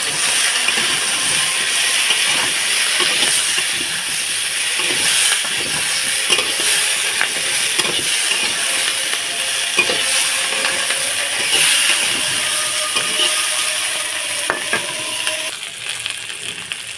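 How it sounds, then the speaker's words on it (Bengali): Potatoes, onions and mixed vegetables fry in a pan with a continuous loud sizzle, while frequent clinks and scrapes of a spatula stir them throughout. "সব সবজিগুলোই দিয়ে দিলাম, আলু পেঁয়াজ করলো, এগুলো একটু ভাজা ভাজা করে নেব।"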